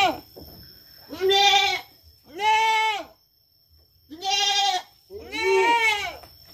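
Goats in a pen on a village farm give four loud, drawn-out bleats in close succession, each separated by brief quiet, heard near and with no talking.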